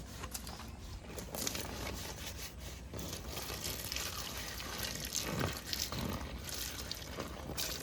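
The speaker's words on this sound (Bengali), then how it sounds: "কলা পাতাগুলো কাটা হয়ে গেছে, এবার ভালো করে ধুয়ে নেব।" Freshly cut banana leaves are rinsed and swished in water, giving a steady wet splashing and rustling with scattered drips that continue throughout.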